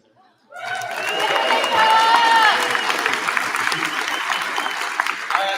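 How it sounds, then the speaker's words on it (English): Audience applause fills a pop culture expo panel room, a dense steady wash of many hands clapping that starts abruptly and holds, with scattered cheers and whistles rising above it. "give a round of applause to my wife's birthday today"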